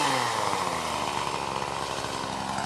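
Poulan Pro chainsaw cutting tree stumps flush to the ground, its engine at a steady high-revving snarl, loud and close, holding constant throughout with no voices.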